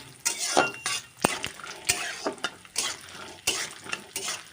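Cashews and raisins frying in a pan, close spoon scrapes and clinks against the metal in short irregular strokes over a light sizzle, no talking.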